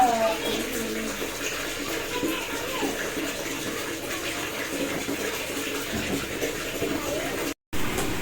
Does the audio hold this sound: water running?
yes